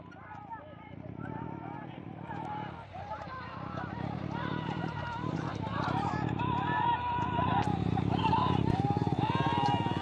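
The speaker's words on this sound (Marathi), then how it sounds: "ही बघा, ही बैलगाडी एक पार्टी झाले" Bullock carts at a rural Marathi cart race, with hooves drumming and wheels rumbling steadily and loudly over ground. Voices and crowd noise run throughout.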